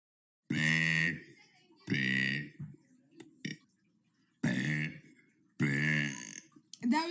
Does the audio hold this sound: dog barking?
no